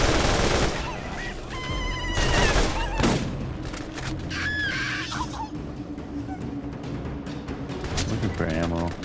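Rapid rifle fire from Ajax's Spear, an Atlas combat rifle in the video game Borderlands, chatters in fast continuous bursts up close, broken by brief pauses, with someone talking over it.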